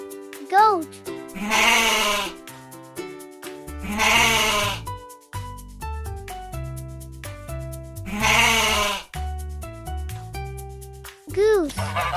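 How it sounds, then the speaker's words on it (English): A farm goat bleats loudly several times in wavering, drawn-out cries, with short pauses between calls, close by and alone. "Goat."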